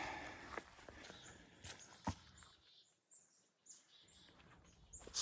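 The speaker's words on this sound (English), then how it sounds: "you hear those birds?" Small birds chirp faintly in a quiet park along a river trail, brief high calls scattered across the clip with a few soft footsteps and rustles nearby.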